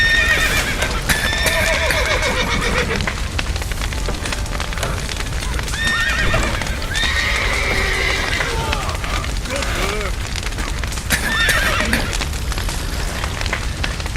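Horses neigh and whinny with clip-clopping hooves amid a burning barn scene in The Witcher 3 video game, loud and continuous, with shouting voices and crackling fire mixed in throughout.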